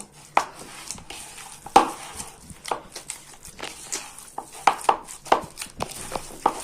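Minced meat kofta mixture with onion and ketchup is kneaded by hand, making irregular soft slaps, squishes and light knocks against a bowl, close up and fairly quiet, with no talking.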